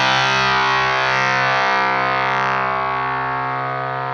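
Electric guitar played through a Jam Pedals Octaurus LTD octave fuzz pedal rings out as one thick, distorted sustained chord, loud and dense, slowly fading without any talk.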